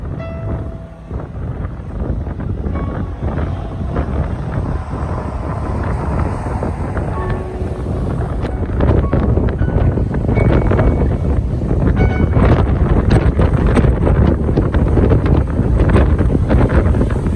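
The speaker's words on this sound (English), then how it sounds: "It's windy!" Strong wind gusts across the microphone on an exposed coastal hike near a monument overlooking the sea. The roar stays loud and continuous and builds slightly toward the end, with faint surf possible underneath.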